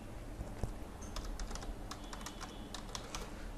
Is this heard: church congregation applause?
no